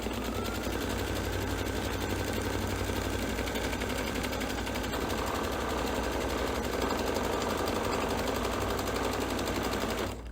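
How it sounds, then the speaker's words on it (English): An embroidery machine stitches out a placement line with a fast, steady mechanical chatter of needle strokes, close and constant throughout, with no talk over it. "I'm going to go ahead and just sew out this placement line"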